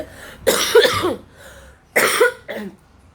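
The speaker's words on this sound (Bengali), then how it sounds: "খুব শরীর খারাপ আমার, খুব কাশি হয়েছে" Two bursts of harsh, close coughing from a person with a bad cold, each a quick run of rough hacks separated by a short quiet pause.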